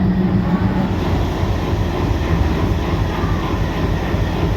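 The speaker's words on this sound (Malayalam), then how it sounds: "നമ്മൾ പറഞ്ഞേക്കാൾ കുറച്ച് ലേറ്റായിട്ട് നമ്മുടെ ട്രെയിൻ വന്നത്" A passenger train rolls into Thiruvananthapuram railway station with a loud, close, continuous rumble and rattle of wheels on track, steady throughout with no voices.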